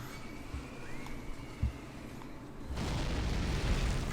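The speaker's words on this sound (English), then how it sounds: "I'm gonna have the Hell Cannon just keep opening fire on the enemy." Battle sounds from the Warhammer strategy game Mark of Chaos, where a Hell Cannon keeps firing on the enemy: a few faint thuds, then a louder sustained blast and roar rising near the end, with no speech.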